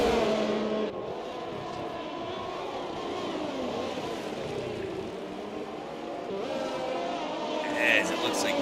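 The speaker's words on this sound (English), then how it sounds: "Now Robbo's got that McLaren tucked in behind him" Race cars including a McLaren roar steadily through a sim racing game, engine tones rising and falling as cars run close together, with a commentator talking over the continuous motor noise.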